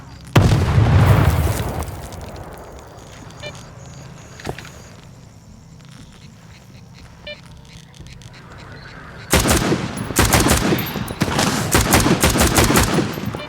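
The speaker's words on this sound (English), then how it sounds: "Fuck him up with a grenade! Through a fucking frag!" Combat in STALKER 2 with a frag grenade blast and gunfire: a loud booming burst up front, then dense, rapid volleys of shots dominating the final seconds, with shouted voices around.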